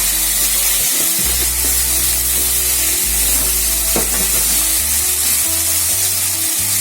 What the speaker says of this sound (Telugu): చూడండి, పచ్చి టమాటా ముక్కలు వేగుతున్నాయి.